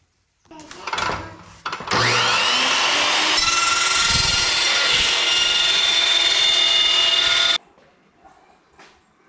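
A power tool whines loudly and continuously for about six seconds while cutting trim pieces for an enclosed trailer build, after a couple of short starts, then stops abruptly into quiet shop noise.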